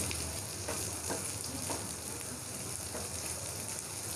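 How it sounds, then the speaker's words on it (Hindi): Garlic and onions fry in a pan, cooking toward a light golden colour for Lahori chikar cholay, with a steady close sizzle and occasional crackles and stirring scrapes. "लहसुन को भी फ्राई कर लेंगे। लाइट गोल्डन कलर देंगे इन प्याज़ों को।"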